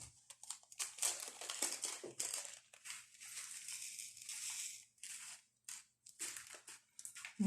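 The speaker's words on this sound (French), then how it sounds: "J'aurais dû enlever le scotch avant la vidéo" Sticky tape being peeled off a plastic packet during an unboxing, close crinkly rustling and crackling in irregular bursts with short pauses between.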